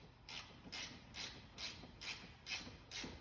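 A hand ratchet tightens brake caliper bracket bolts on a car during a wheel bearing and pad job, giving seven evenly spaced, faint clicking pawl strokes up close with no talking.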